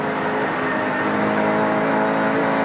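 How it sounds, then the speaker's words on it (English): A race car from the 1993 Shell Australian Touring Car Championship works through its 6-speed gearbox, its engine note sustained and loud across the whole stretch, with harmonic tones shifting as the gears change, and no talk over it. "Here we hear Brocky going through that 6-speed gearbox."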